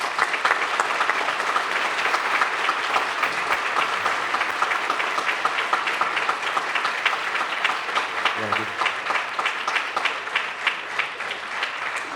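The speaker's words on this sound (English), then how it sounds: "Let's give these guys a round of applause" Steady applause from a banquet audience honoring CERT explorers, sustained and even for the whole stretch, with a few faint voices underneath.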